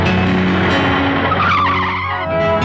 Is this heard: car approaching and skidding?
yes